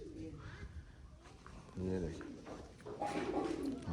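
Pet parrots calling and cooing close by while being fed bread at home, short bird calls mixed in among steady conversational voices.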